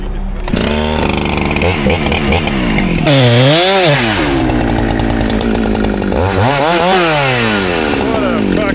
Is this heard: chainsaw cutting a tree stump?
yes